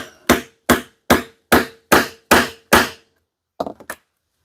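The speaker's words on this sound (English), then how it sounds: "If it's loose, give another couple whacks to set it nice." A hammer strikes fasteners into a leather axe mask, seven evenly spaced loud, close whacks followed by a pause and a quick cluster of lighter taps, no voices.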